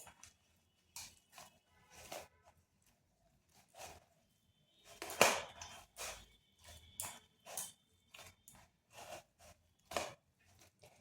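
Ripe palm pulp and semolina batter with baking powder being stirred and beaten in a bowl, a series of soft, wet slaps and scrapes in uneven bursts, close and fairly quiet with no talk.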